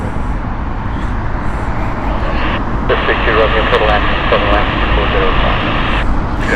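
A passenger jet with Pratt & Whitney 1000 engines roars loudly at Heathrow Airport, a sustained broadband engine rush with a rising whine partway through, heard close and continuous.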